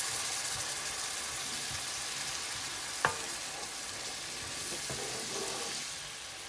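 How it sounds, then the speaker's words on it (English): Pork vindaloo mixture with vinegar frying in a pan, a steady broadband sizzle with occasional stirring clinks and scrapes, close and continuous with no talking. "Now I've got to fry this down"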